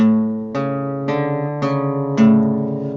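An electric guitar rings out five evenly spaced picked chords, strummed down and up in a steady rhythm, clear and close with no talking.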